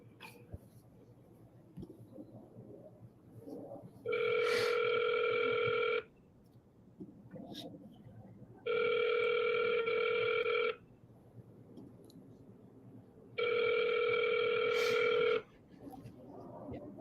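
A telephone rings back three times in long steady bursts after a call is dialed, each ring lasting about two seconds with quiet gaps and faint room noise between them.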